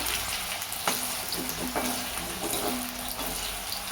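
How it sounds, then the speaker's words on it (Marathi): Potato slices frying and being turned in hot oil in a pan, a steady close sizzle with occasional scraping stirs, no talking. "बटाटे असे खालीवरती परतून घ्यायचे आहे"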